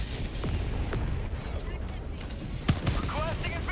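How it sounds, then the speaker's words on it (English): A walking barrage artillery strike in the video game Helldivers 2, with repeated booms and gunfire rumbling through continuous battle noise, one sharper blast standing out near the end, and game voices mixed in. "Walking barrage looks like it might miss."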